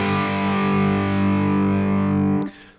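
Rhythm electric guitar through a tube amp, a single loud, sustained distorted chord ringing for about two and a half seconds before being choked off abruptly.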